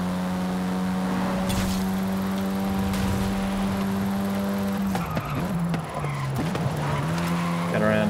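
Loud racing-car engine in Forza Horizon 5, droning steadily and then shifting pitch as the car powers through a corner, with tire squeal and scrubbing audible near the end.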